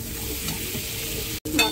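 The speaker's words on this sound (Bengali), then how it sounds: "মশলাটা কষানো হয়ে গেছে, মশলা দিয়ে তেল ছেড়ে দিয়েছে। এবার ভেজে রাখা আলুটা দিয়ে দিচ্ছি" Fried potatoes are stir-fried in oil with cooked spice paste, sizzling loudly and steadily up close, with a short break near the end.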